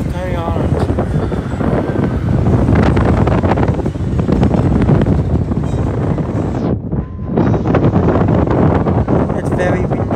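Strong wind roars steadily and loudly across the microphone high atop the Wonder Wheel at Coney Island, above the beach, with a brief lull near the end before the gusts return.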